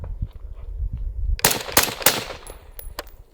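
A bullpup rifle fires a rapid burst of sharp, loud shots away from steel targets outdoors, following a quieter stretch of low rumble and handling noise, with no talk.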